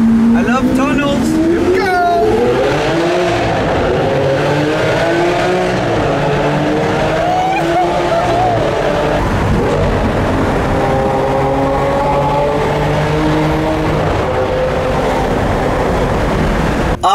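A Lamborghini Aventador engine revs hard inside a tunnel, a loud, echoing roar that climbs sharply in pitch, then holds a sustained high drone with further rises and falls.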